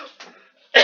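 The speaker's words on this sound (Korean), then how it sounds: "기침 나오네요." During a Korean lecture on steelmaking, a single person coughs nearby: a short throat sound is followed by one loud, harsh cough burst.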